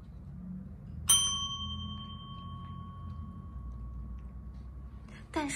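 A small push bell rung once to train a cat to link the ding with treats; a single bright ring that hangs and decays slowly over a quiet room hum, followed by a brief rustle near the end.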